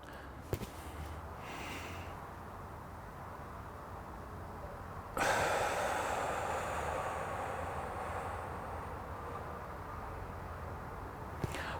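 Deep breathing exercise for recovery after flu, with slow audible inhales and exhales separated by held breaths, close and fairly soft against a steady background hum.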